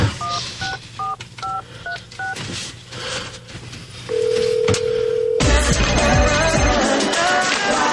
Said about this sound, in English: listen very carefully to the phone call I'm about to make